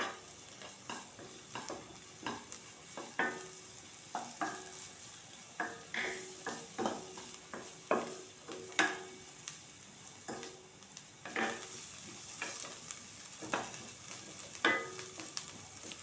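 Mixed vegetables with capsicum sauté in a pan for vegetable soup, giving a soft, low sizzle broken by repeated scraping and clinking stirs at an uneven rhythm, fairly quiet and close.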